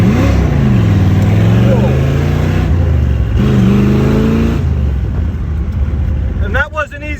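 A custom 1968 Corvette V8 with a stick shift pulls hard through the gears, its loud engine note climbing and dropping at each of several upshifts, with a brief exclaimed voice over it.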